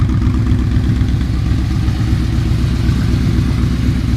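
Yamaha Royal Star Venture motorcycle fitted with Harley mufflers, engine running at a steady low idle with a deep, even rumble and faint clatter, close and continuous with no talk.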